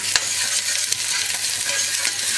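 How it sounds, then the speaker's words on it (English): Ginger sweating in a pan for homemade pumpkin soup, a steady bright sizzle with occasional stirring clicks, close and continuous with no voices. "We're using our ginger, which we're sweating on now. You can hear it sizzling"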